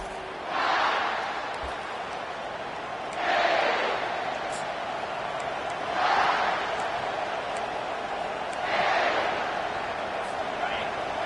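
A stadium crowd at a football game roars in repeated swelling waves as the Monarchs offense takes the field, a broad wash of cheering that rises and falls every few seconds.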